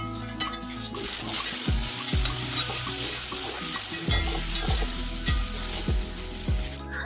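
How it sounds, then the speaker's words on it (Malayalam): Okra and tomato sauté in coconut oil for a Kerala sambar, a continuous close sizzle broken by repeated sharp knocks and scrapes of a spoon against the pan, with no talking. "ശകലം വെളിച്ചെണ്ണ ഒഴിച്ച് വെണ്ടയ്ക്ക ആദ്യം വഴറ്റുക വെണ്ടയ്ക്ക മൂപ്പായി വരുമ്പോഴത്തേക്കും അതിനകത്ത് തക്കാളിയും കൂടി ഇട്ട് നമുക്ക് വഴറ്റിയെടുക്കാം"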